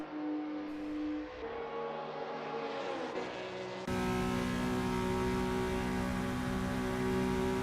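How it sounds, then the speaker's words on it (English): A Le Mans prototype race car in a sim racing game drones at steady high revs, loud and continuous, with a brief shift in pitch before the engine note holds level and constant. "Imagine listening to the sound of that car for hours on end as you drove this in real life."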